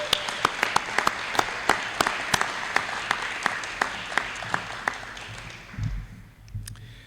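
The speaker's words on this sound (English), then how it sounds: "we do want to give him a round of applause to recognize his award" An audience at a university spring awards ceremony applauds to honor an absent award recipient, a moderate burst of clapping that thins into a few scattered claps before fading into room murmur.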